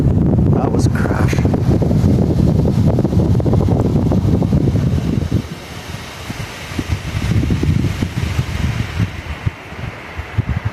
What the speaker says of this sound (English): it's windy down here too